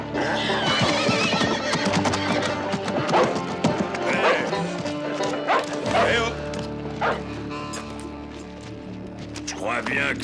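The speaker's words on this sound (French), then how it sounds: "Je crois bien que c'est mon cheval que tu as fait fuir." A horse whinnies loudly amid busy commotion, with hoof clatter and a dog barking mixed in, while voices talk over the scene.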